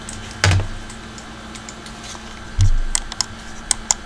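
Close-up presses on a wired computer mouse button give a few crisp, isolated clicks, two heavier thumps then quick light taps, all over a constant air-conditioner hum in a quiet room.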